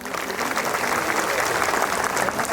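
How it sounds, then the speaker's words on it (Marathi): An audience at a Marathi rally honouring students on a hunger strike claps loudly, a dense and steady wash of applause that lasts throughout. "त्यांच्यासाठी आपण जोरदार टाळ्या वाजवल्या पाहिजे"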